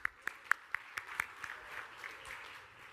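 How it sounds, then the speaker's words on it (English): Brief applause from a panel audience: several sharp claps stand out at first, then the clapping thins into a soft, scattered patter that fades within a few seconds. "give these guys a round of applause for participating"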